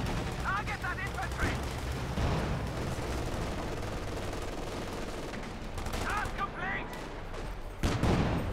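Machine gun fire in the video game Company of Heroes 2, with dense bursts and a rolling battle din that run throughout. A commentator speaks over the shooting.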